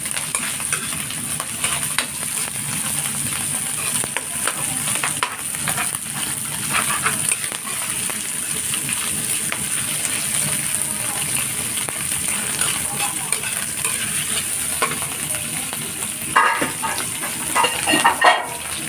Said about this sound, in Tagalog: karagit yung tinapa para napipirito siya ng konti dyan